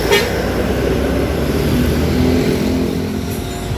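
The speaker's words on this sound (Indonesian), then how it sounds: "pintu berhasil ditutup dan diberangkatkan bus Bagong" Bagong bus pulling away from a crowded roadside stop in Braan on a Monday morning, a steady loud engine rumble and revving drone held close throughout, with no talking.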